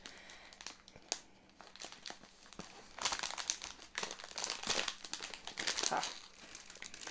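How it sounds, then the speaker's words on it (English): A box cutter slices through packing tape on a wrapped bath bomb Easter basket, with crinkling plastic and tearing sounds up close that grow louder and busier midway. "I can use my box cutter and we'll cut the tape."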